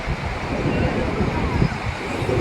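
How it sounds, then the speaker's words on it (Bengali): Sea waves surging around a boat as two brothers push it out through the surf, a dense rumbling wash close by with wind buffeting the microphone throughout. "এরা দুটো ভাই এই নৌকা ঠেলছে, নৌকা ঠেলে এই ঢেউয়ের মধ্যে থেকে"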